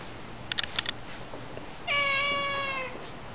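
A cat gives a few short, soft mews, then one longer, louder drawn-out meow close by, with quiet background hiss between calls.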